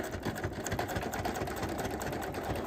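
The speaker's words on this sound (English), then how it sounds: "you need to patiently top stitch the lining to the main panel 1 millimeter" A sewing machine top-stitching fabric lining to the main panel of a pencil case, a fast, steady mechanical whirring chatter running continuously and close up without pause.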